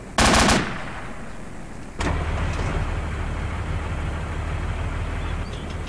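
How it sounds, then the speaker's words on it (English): A PKM machine gun mounted on the front of an AAV in the video game Arma fires a loud short burst, followed by a steady, heavy vehicle engine rumble that continues throughout. "apparently for some reason the machine gun on the front's a PKM"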